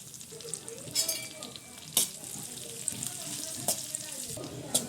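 Raisins and coarsely crushed sugar are sautéed in a pan, with a continuous light sizzle broken by several sharp spatula scrapes and stirring clatters at close range.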